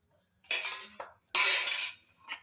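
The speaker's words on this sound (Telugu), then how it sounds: "మూత పెట్టేసుకొని" A metal lid clatters onto a cooking pot of raw tamarind, tomatoes and chillies in a home kitchen, with two sharp clanking impacts followed by a lighter tap, close and alone.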